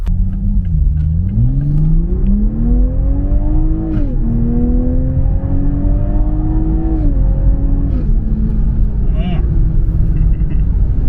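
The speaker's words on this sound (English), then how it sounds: "I'm not even like halfway and the car is already moving" A Toyota Supra engine pulls hard in normal mode and rises in pitch through several gear changes, loud and close, the note climbing, dropping briefly, then climbing again.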